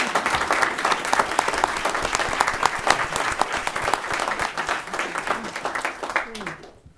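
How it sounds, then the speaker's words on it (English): An audience at a League of Women Voters candidates' forum for select board applauds in a dense, steady burst of clapping that continues for several seconds, then fades out at the end. "you can all clap"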